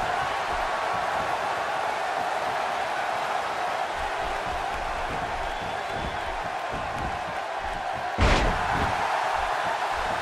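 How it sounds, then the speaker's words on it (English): A wrestling arena crowd in WWE 2K16 roars as a steady broad wash of noise, broken near the end by a single sharp slam. "by the sound of this crowd, I think they're getting what they wanted"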